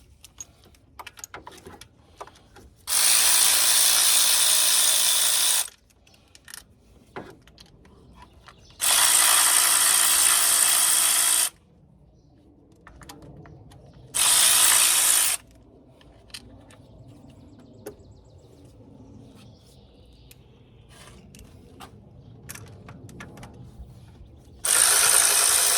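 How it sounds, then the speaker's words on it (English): A ratchet loosens valve cover bolts on a 2010 Kia Soul, heard as four separate loud, steady mechanical whirring bursts of a few seconds each, with quiet gaps between them. "Go use my ratchet to speed it up."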